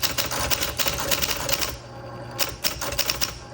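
A 1971 Adler Satellite typewriter clatters through a quick run of key strikes, then a brief pause, then more sharp, closely spaced keystrokes, loud and near with no talk.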